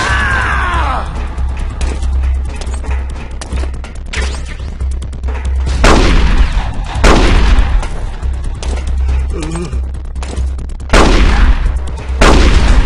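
Gunshots in Metal Gear Solid: The Twin Snakes, loud booming shots spaced a few seconds apart over a rumbling game background.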